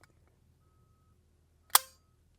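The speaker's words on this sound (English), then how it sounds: "Next up, the old staple gun." An old staple gun fires once, a single sharp, loud snap with a brief ringing tail, set against a quiet background near a suppressed .22 rifle test.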